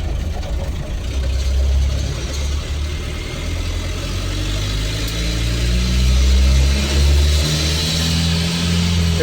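A 1959 Ford F100 fitted with a VW 1.9L turbo diesel and 88mm turbo pulls through the gears around 2,000 RPM, a steady loud low drone that swells as it accelerates, with a faint turbo whine above and no talk.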